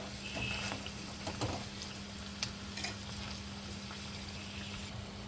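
Homemade egg puffs deep frying in hot oil give a steady, soft bubbling sizzle with occasional small pops and crackles, fairly faint and close, with no voices.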